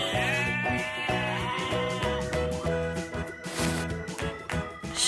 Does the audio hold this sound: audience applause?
no